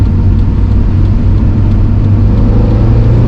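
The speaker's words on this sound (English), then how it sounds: "So let's just do normal driving, see what it feels like, and then do some snappy gear changes." A Mk1 Mazda NA MX5 Miata engine drones steadily at a fixed pitch from inside the car, a loud, continuous low hum with no clear change.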